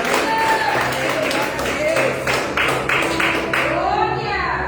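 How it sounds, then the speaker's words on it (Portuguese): A church congregation at a Sunday service claps along under loud ongoing talk or singing, with a run of rhythmic claps building through the middle and the room sound staying full throughout. "Você tem isso, aplauda Ele nessa noite."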